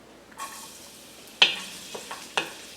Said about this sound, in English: That's the sizzling that you're looking for.